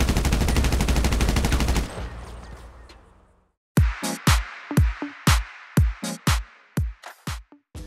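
Special carbine rifle fire in a video game: a long, loud burst of rapid automatic shots first, then a pause, followed by a string of about a dozen separate, punchy single shots at an even rhythm.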